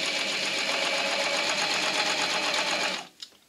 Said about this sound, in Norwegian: så må jeg rett og slett bare begynne å sy en liten stund